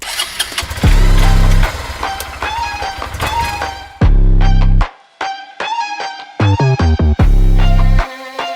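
A motorcycle engine cranks and catches in several loud, repeated bursts before a night ride, each burst broken by short gaps, close and with no talk.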